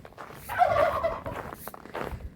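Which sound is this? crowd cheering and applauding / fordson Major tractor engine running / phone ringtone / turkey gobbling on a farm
turkey gobbling on a farm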